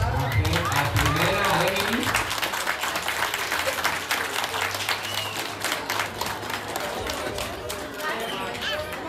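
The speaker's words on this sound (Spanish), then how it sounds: "Y un aplauso, por favor, a las dos." Party guests at a quinceañera banquet applaud with dense, sustained clapping that gradually tapers, mixed with some voices and chatter.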